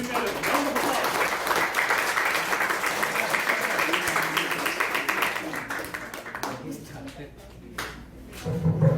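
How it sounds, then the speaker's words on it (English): An audience at a youth leadership program event gives a sustained round of applause, many hands clapping densely for several seconds before thinning out, with voices audible as it fades. "And give him a round of applause."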